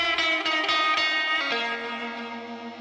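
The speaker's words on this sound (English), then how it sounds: "I put some echo bar on it to give it reverb and delay" Electric guitar outro drenched in echo, reverb and delay from a guitar rig, a few picked notes then a sustained chord that rings out and slowly decays, loud and alone.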